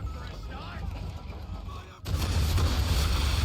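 A broadside of ship cannons fires in Assassin's Creed III. Quieter game sounds give way to a sudden loud, sustained booming rumble that fills the second half.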